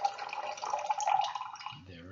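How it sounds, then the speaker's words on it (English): Cannabis-infused oil is poured through a strainer into a container, giving a soft, steady trickling and pattering of liquid that is close and fairly faint, with a low voice starting at the end. "I have an infused oil. The cannabis is removed out through a strainer. I'm going to pour it in here"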